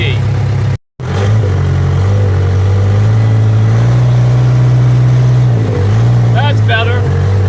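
A backhoe tractor's engine climbs a steep wooded incline with its front wheels lifting off the ground. It gives a loud, steady, close drone that cuts out briefly near the start, then holds a constant low rumble.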